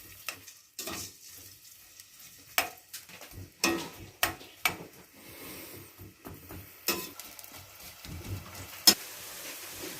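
Onions fry in about a pav of cooking oil for Lahori chanay, with a soft, steady sizzle and scattered spoon knocks and scrapes against the pan. The sound is fairly quiet and close, with no talk.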